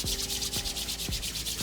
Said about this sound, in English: Rub it with my hands